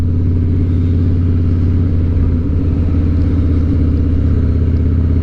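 A Harley-Davidson motorcycle with ape hanger handlebars is ridden, its engine a loud, steady, low rumble with slight wavering throughout and no talk.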